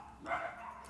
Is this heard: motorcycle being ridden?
no